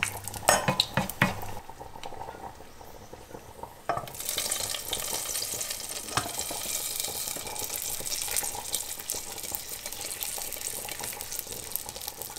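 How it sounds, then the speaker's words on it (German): Sausage and onion sizzle and crackle steadily in a hot pan after a few clinks of utensils, a continuous close frying hiss. "in dieser Pfanne die Wurst anbraten"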